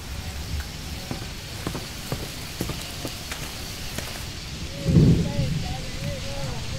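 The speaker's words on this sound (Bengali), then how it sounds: "বৃষ্টি পড়ছে" Rain falls steadily in the Amazon rainforest, a constant hiss broken by scattered drips and taps, with a brief low rumble and a faint voice partway through.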